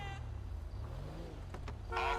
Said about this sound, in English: Oh, I set off a car alarm.